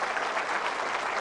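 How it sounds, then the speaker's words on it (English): A crowd at a church preaching service breaks into a dense, steady round of clapping, loud and sustained for a brief moment with no talk over it. "A loud round of applause for the King of Kings and Lord of Lords."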